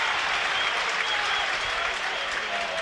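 Football crowd at Burnley v West Ham roaring steadily as a corner is won, a dense, continuous wash of cheering and applause filling the stadium with no single voice standing out.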